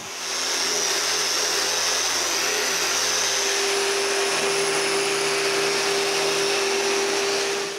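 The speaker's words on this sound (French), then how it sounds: "La sableuse linéaire est parfaite pour cette job-là." Linear sander working along the grain of wood on a closed bookcase project, a steady continuous whir with a high-pitched tone holding evenly throughout, fairly loud and close, no talking.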